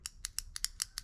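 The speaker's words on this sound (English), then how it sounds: "it makes an audible click when you actually click the button" Seven crisp, evenly spaced clicks from the push-button power switch on a new Bella Pro Series air fryer, sharp and close with no voices.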